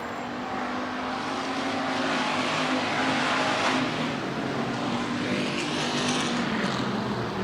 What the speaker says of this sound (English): Craig Brotherton out of Wall Lake, car 45B, starting to make some noise